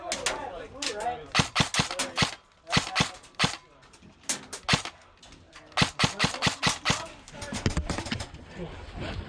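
Rapid bursts of airsoft gunfire on an airsoft field with players shooting from a bus, sharp clustered pops in uneven volleys, some close and loud, with voices talking between shots.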